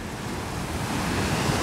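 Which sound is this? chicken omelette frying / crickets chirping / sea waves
sea waves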